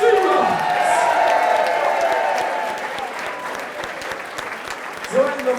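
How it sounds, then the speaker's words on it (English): Crowd at a white-collar boxing event in London clapping and cheering loudly in a continuous burst that slowly fades, with a brief voice near the end. "Ladies and gentlemen, one more time, can we have a big round of applause for Joni Stevens!"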